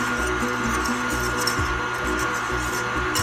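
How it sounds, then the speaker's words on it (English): An electric mixer whirs steadily, mixing dry ingredients for pumpkin bread (flour with salt, cinnamon, nutmeg and baking soda), its motor drone loud and continuous throughout with no talking. "I'm just gonna mix that up."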